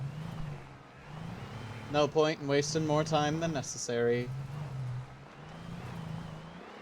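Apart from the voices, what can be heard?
car driving in the video game Alan Wake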